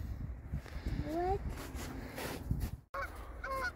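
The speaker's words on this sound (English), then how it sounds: "Welcome back home, geese." Geese honk outdoors in Canada, a couple of close rising calls followed by more honks after a brief gap, with footsteps and people talking nearby.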